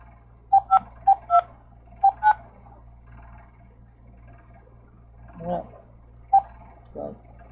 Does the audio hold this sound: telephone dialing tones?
yes